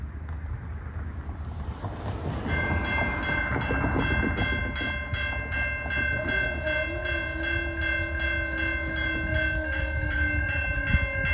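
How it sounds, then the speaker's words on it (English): A coal train passes on a Michigan rail line in Trenton or Wyandotte, with loud steady rumbling from the rail cars and a sustained multi-tone horn blowing nearby over wind noise. "Actually, I lied, it is the coal train because I drove by it."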